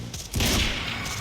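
A gunshot in the game Quantum Break gives a loud, dense boom that rings on with a rumbling, noisy tail over a short stretch.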